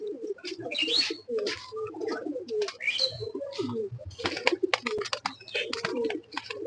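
Aluminium-coloured pigeons coo repeatedly in a busy loft, a close chorus of soft throaty calls overlapping with occasional chirps and light shuffling.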